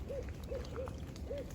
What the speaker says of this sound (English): that is actually a barred owl